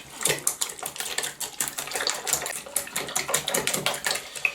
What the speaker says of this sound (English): we're going to give this a good whisk